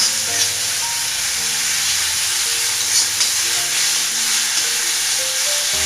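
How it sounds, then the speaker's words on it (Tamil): Ingredients for mango rice sautéing in a pan, a steady loud sizzle and hiss of frying with faint stirring throughout and no talk. "இது நல்லா வதங்கட்டும்."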